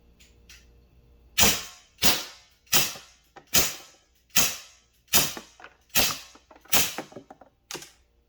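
An Umarex SA10 CO2 pellet pistol fired rapidly, nine sharp, evenly spaced pops at close range after a few faint mechanical clicks.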